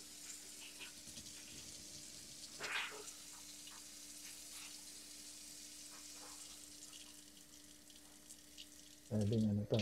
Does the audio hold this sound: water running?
yes